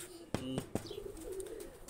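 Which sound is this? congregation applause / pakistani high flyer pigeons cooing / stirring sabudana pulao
pakistani high flyer pigeons cooing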